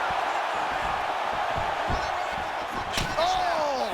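A heavy punch lands with a sharp slam in the UFC 5 boxing video game, set against a constant roar of arena crowd noise, with a commentator speaking over it.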